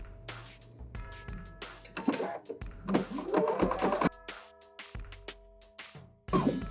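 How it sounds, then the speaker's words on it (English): Sewing machine stitching the center back seam of a cozy indoor slipper, fast rhythmic mechanical whirring in bursts that start and stop, close and moderate with a steady motor hum. "Now we're going to sew center back together on both of these pieces."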